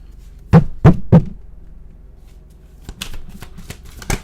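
Tarot cards are shuffled and tapped in a few distinct bursts, three sharp close riffles followed by a softer run of quick flicks and taps.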